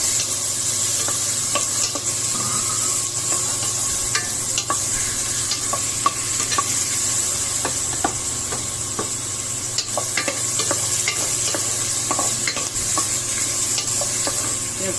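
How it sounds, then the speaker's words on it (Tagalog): Garlic, ginger and tomato sauté together in a hot pan for salmon belly and shrimp sinigang, a steady close sizzle with occasional scraping stirs and clicks of the utensil, no talking. "Gisa natin to guys."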